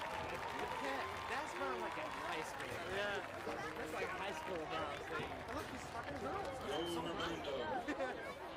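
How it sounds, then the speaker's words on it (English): Crowd applause and cheering at a high school football senior night, Hernando Tigers vs Southaven Chargers, a steady dense wash of clapping with crowd chatter mixed in throughout, moderately distant in a stadium. "Ladies and gentlemen, these champions, another round of your applause"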